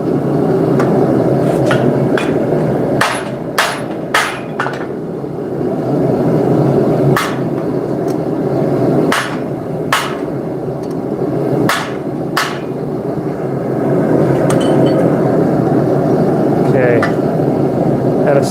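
A blacksmith forging a hammer with an oversized eye, sharp ringing hammer blows striking hot steel in uneven clusters and single strikes, loud and close over a steady workshop hum, with a voice talking at times.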